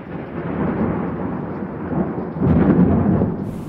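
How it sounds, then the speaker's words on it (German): Steady heavy rainfall hisses throughout while deep thunder rumbles and swells louder toward the end. "Immer wieder zerstört Regen ihre Arbeit."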